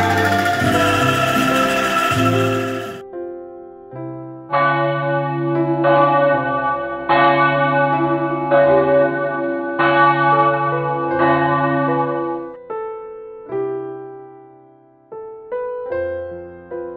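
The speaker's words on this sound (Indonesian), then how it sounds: "suara lonceng mulai terdengar ke seluruh penjuru dunia" Church bells at HKBP Menteng ring loud and close, with repeated resonant strikes and long ringing tails decaying between strokes after a brief noisy opening, and no voices.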